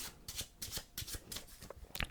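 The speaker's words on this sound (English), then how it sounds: "with the remainder of the cards, we can give them a good shuffle." Several quick riffle bursts of playing cards being shuffled, close and crisp, in rapid succession with brief pauses between.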